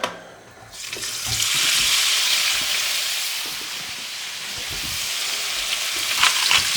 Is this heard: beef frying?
yes